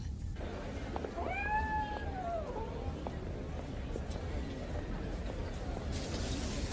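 A cat meows once with a clear, drawn-out rising and falling call near the start, followed by quieter background sounds and a faint voice.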